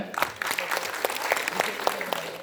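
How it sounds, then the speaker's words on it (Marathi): An audience claps loudly and continuously in honor of Kartik Meshram at a community felicitation event, dense applause filling the room with a voice faintly underneath. "सन्माननीय कार्तिक भाऊ साठी जोरदार टाळ्या"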